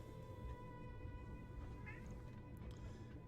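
A cat meows faintly in the Battletech game, a brief mewing call sitting over a steady low background hum, with no talking.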